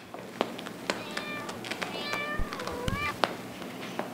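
A black cat meows several times in short rising and falling calls, fairly close, over a hissy background with occasional soft thumps and faint talk.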